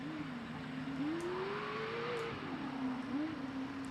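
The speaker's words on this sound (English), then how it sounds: "Absolutely, the Richards car now coming across the line" Richards race car engine in a Riverland enduro race, a distant engine note rising and falling as it comes across the line, heard faintly over steady background noise.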